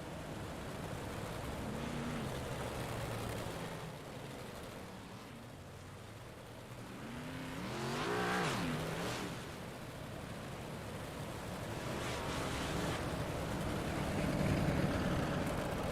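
Big Block series race cars and a pace car circling the dirt oval at Fairbury, a steady broad engine roar that swells and fades as the cars pass, with a strong rising sweep near the middle of the clip.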